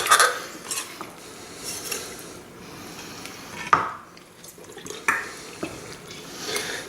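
A big, heavy knife works through the joints of a smoked turkey, giving scattered dull cracks, thuds and scrapes against a board, close and moderately quiet with pauses between cuts.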